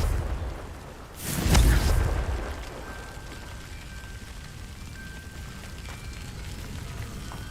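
A Confringo blasting spell goes off in a video game, giving a single deep boom with a rumbling tail about a second and a half in. A steady rain-like hiss of ambience runs throughout.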